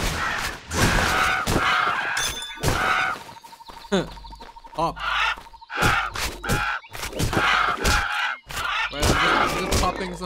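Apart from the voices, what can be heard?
birds squawking in the video game Titan Quest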